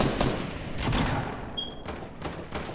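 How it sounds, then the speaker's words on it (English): Rapid bursts of gunfire in a Fortnite Battle Royale match, dense overlapping shots in quick succession, fairly loud and continuous with no talk. "I hear him shooting"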